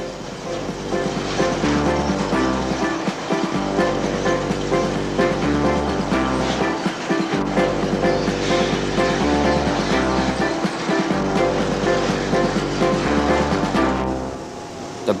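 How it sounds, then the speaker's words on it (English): At a paper mill, a high-pressure water jet strips bark from giant logs, making a loud, continuous roaring rush of spray with heavy, pulsing low machinery thumps underneath. "Bark is removed using an amazingly high-pressure jet of water"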